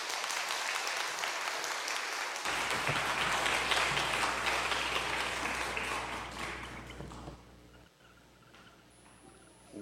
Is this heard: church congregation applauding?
yes